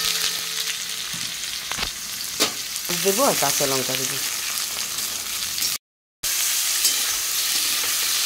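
Sliced onions frying in oil with black cumin in a wok, a steady sizzle with utensil scrapes and clinks, someone speaking briefly over it, and a short dropout of silence.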